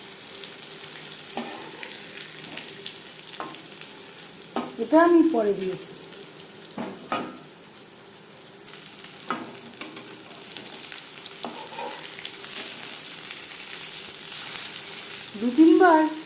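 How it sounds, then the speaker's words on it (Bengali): Fish frying in a pan of oil for a crispy Bengali fish fry with masoor dal, a steady close sizzle throughout with occasional clinks of turning, and brief soft speech in between. "একটা সাইড ভাজা হয়ে গেলে অপর সাইডটা উল্টে দেব।"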